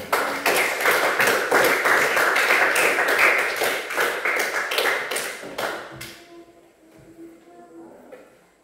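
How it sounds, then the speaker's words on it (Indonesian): A class in a lesson session bursts into loud, dense applause that carries for about six seconds, then stops sharply and leaves a quiet room with faint murmurs. "Oke, sekali lagi tepuk tangan."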